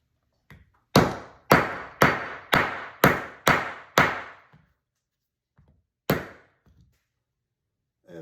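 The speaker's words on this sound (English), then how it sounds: "You're going to take your hammer or your rubber jeweler's mallet" A series of seven sharp, evenly spaced taps from a rubber mallet striking a 45-70 Government rifle cartridge, close and distinct, followed by one more tap after a pause.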